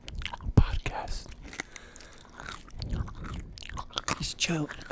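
A person chews food close to the microphone in a podcast setting, making wet, crunchy bites and mouth sounds. Soft speech and whispering are mixed in throughout.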